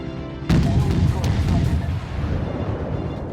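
Heavy naval guns of the American Tier III cruiser St. Louis boom in World of Warships, a loud sudden salvo followed by rolling, rumbling reverberation that fades slowly over a few seconds.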